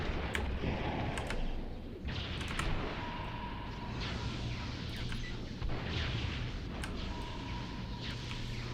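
Cannons firing in the superhero game Champions Online, heard as distant repeated booms every second or so over a constant rumbling background, fairly faint and steady.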